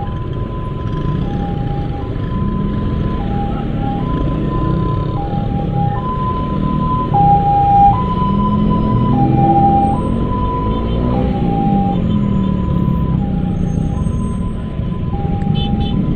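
An ambulance siren wails continuously in a steady two-tone alternating pattern, loud and close, over rumbling traffic noise on a flyover in Ciputat, Indonesia.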